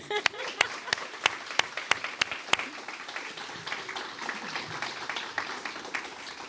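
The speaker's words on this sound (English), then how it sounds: "Please join me in a big round of applause congratulating our August 2025 graduates." A small audience at a hearing dog graduation ceremony claps, opening with a few loud, sharp, evenly spaced claps before settling into lighter, scattered applause with faint murmuring underneath.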